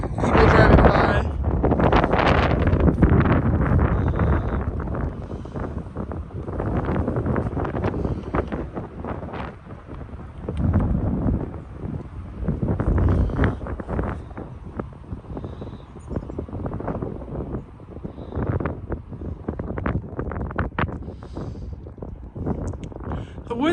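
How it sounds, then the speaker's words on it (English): Gusty wind on a hiking trail along the Pacific Crest Trail buffets the microphone in loud, rumbling waves, rising and easing over the stretch with rustling bursts and no clear speech. "The wind's not as bad as yesterday, but it's still a little windy."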